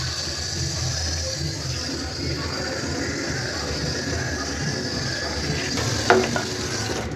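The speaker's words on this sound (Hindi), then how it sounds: "तो जीरा फ्राई करके बनाऊंगी" Cumin seeds frying in a pan for cumin rice sizzle steadily while a utensil stirs and scrapes, close and continuous, with a brief clatter near the end.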